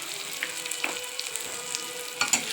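Chole masala tempering, with spices including turmeric and garam masala sizzling in hot oil, giving a steady close crackle with a few sharper pops and no talking.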